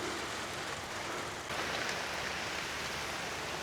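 Heavy rain falls steadily outside a hut, a dense continuous hiss that grows slightly louder partway through, with no voices.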